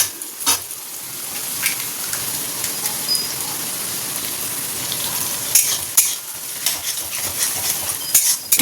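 Vegetables and an egg fry in a pan, giving a steady, close hiss with scattered scraping and clinks from stirring throughout.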